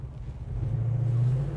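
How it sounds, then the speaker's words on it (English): Low, steady rumble from the exhaust of a 1971 Chevrolet Chevelle with an automatic transmission, idling close by with a slight swell in loudness, with no voices. "I love the sound of the exhaust on this car."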